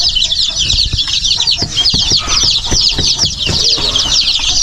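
Hens with a chick on a farm cluck in loud, dense bursts close by, with high chirping and occasional wing flaps layered over a steady flock murmur.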